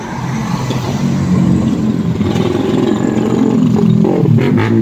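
Raider 150 motorcycle engine passing on a road during an endurance challenge, a steady loud drone that swells slightly mid-way, with no voices.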